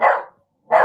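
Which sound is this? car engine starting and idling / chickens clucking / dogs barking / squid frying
dogs barking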